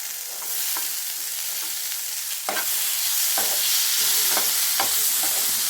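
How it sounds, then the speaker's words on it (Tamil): Snake gourd fries with chili and coriander powder in a pan, giving a continuous close sizzle broken by several sharp scrapes and knocks from stirring. "ஒரு நிமிஷம் வதங்கினதும் இதில் புடலங்காவை சேர்த்துடலாம்."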